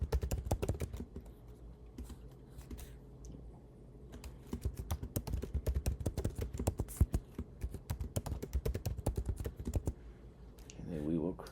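Rapid clicky keystrokes on a computer keyboard as a password is typed during an account signup, coming in quick bursts with short pauses, close and crisp, with a brief voice near the end.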